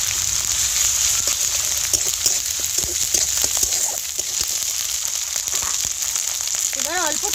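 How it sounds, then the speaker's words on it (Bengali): Chopped onion and ginger paste fry in a pan with a steady, loud, dense sizzle that holds evenly throughout, and a brief voice-like tone rises near the end. "একটু ভেজে নেব।"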